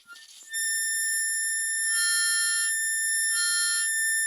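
Blues harmonica played one hole at a time, a steady high reedy tone held after a brief breathy start, with two louder swells as the player slides over to hole 9, alone with no talk.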